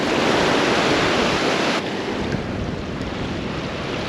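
Ocean surf rolls in continuously at a salmon fishing shore, a loud broadband wash of breaking waves with wind buffeting the microphone, easing slightly after the first couple of seconds.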